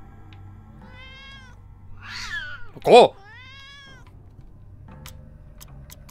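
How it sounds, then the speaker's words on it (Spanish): A cat meows in the video game Yuppie Psycho, a few short meows then a louder one, with a person exclaiming briefly in Spanish over it. "¡Uy, un gatito!"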